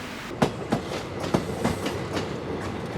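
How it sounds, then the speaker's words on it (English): Steady rumble of a train ride in Japan, heard from inside the carriage, with rhythmic clickety-clack wheel beats recurring about every third of a second over continuous rolling noise. "I got on the train home."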